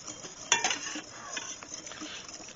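Hot milk stirred gradually into eggs to temper them for an almond hot milk sponge cake, with a brisk clink of a utensil against the bowl and then soft continuous swishing and scraping, close and quiet.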